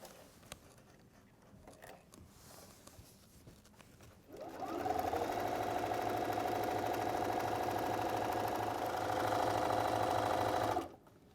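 A sewing machine runs a second line of stitching to hold Velcro on a quilted wall calendar, starting after a few quiet handling clicks and whirring steadily with a fast, even mechanical patter for about six seconds before stopping.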